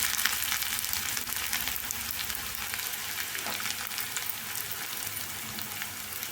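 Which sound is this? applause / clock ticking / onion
onion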